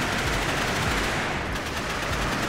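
Rapid automatic gunfire from a rocket-firing machine gun in the video game NIMRODS: GunCraft Survivor, a relentless dense stream of blasts over a constant roar.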